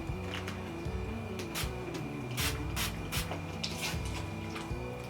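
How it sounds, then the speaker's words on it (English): Short bursts of hairspray hiss repeatedly from an aerosol can, several quick sprays in an irregular rhythm over a steady low hum. "I'm just going to spray it real quick"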